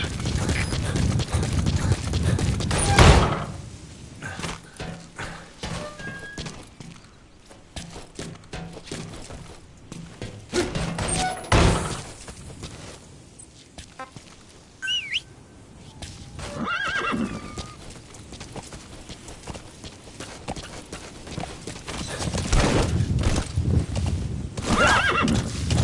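A horse in Metal Gear Solid V: The Phantom Pain whinnies loudly and clip-clops along at a steady gait. Scattered game effects and a second neigh follow over a rumbling outdoor ambience.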